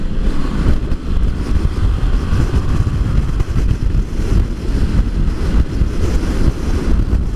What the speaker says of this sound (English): The bike is still stable, but damn, that's a lot of wind.